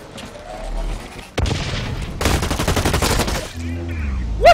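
Grenade explosion followed by dense rapid gunfire in a first-person shooter video game, a sudden loud boom then a sustained crackling burst of shots and bangs, with low rumbling ambience and no talk.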